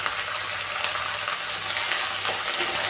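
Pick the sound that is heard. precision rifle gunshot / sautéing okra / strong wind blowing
sautéing okra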